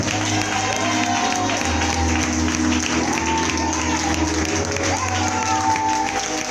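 A church conference audience applauds a group, steady clapping mixed with crowd noise and occasional cheers, with talking voices and music-like tones running underneath throughout.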